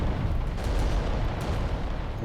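A Titan's volcano cannon is blown off in the Adeptus Titanicus: Dominus video game, giving a loud, sustained, deep explosive rumble with bursts of crackle that fills the whole moment without any voices.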